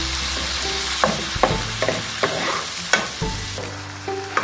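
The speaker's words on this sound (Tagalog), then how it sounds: "At haluin lang po natin." Homemade tomato sauce bubbles and sizzles in a pan while a spoon stirs it, making a string of close scrapes and knocks about every half second over a low steady hiss.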